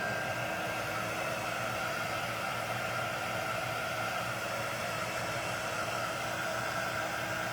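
A hair dryer blows steadily on fresh paint on a Christmas moose craft, a loud, even whooshing whir that holds unbroken from start to finish with no talk over it.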